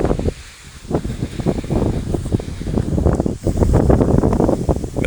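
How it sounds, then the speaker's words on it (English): Gusty wind buffets the microphone in steady low rumbling bursts, loud and close, with no other clear sounds. "It's just too windy to get that second one on."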